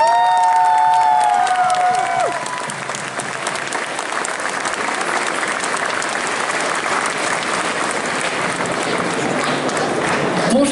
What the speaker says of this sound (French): je vous demande d'applaudir comme il se doit Cinderis